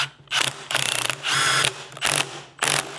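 Quick ratcheting clicks in short bursts as a lock washer is tightened on an Ohlins coilover for a Honda S2000, close and mechanical, with brief pauses between strokes.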